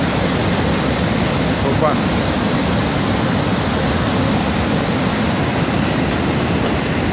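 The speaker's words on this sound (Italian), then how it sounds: "sul muro, come potete constatare, c'è l'acqua che torna indietro, vede?" Water gushes steadily from a broken water mains pipe torn out by a storm in Calabria, a loud continuous roaring wash throughout, with someone speaking briefly over it.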